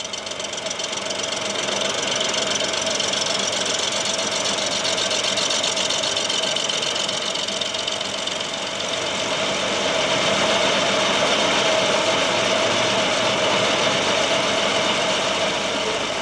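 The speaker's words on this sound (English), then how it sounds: "This machine rotates in three dimensions to shape a perfect spheroid surface." A milling machine rotating in three dimensions cuts a spheroid bearing surface, giving a steady, loud mechanical drone with a rapid rhythmic chatter that runs unbroken and without speech.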